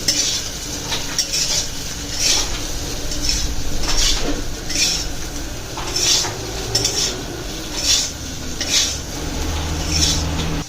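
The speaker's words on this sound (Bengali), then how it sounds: "একবার এই সমস্ত মশলাগুলোকে ভালো করে মিশিয়ে নিন" Spices mixed with a spoon in a pan on the stove, giving repeated scraping, clinking strokes at a steady rhythm over a soft sizzle. The sound is close and clear, with no talk.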